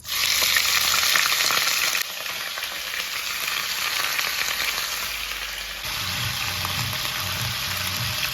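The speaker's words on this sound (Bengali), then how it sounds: "হলুদ লবণ দিয়ে মাংসটাকে ফ্রাই করবো" Meat frying in oil with turmeric and salt, a loud, close sizzle that drops slightly after a couple of seconds and shifts again later, with a steady crackle throughout and no talking.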